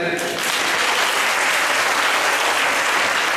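An audience breaks into loud, sustained applause at a conference valedictory ceremony, dense clapping from many hands close by, filling the whole stretch without pause.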